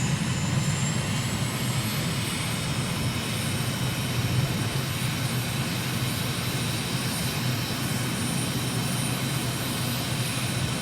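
A MiG jet in a flight simulator drones with a steady engine roar and high whine, constant and close throughout with no speech.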